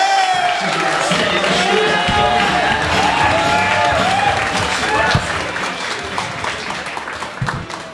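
A comedy club audience welcoming a comedian to the stage with clapping, whoops and cheers. The applause runs steadily, then thins out toward the end.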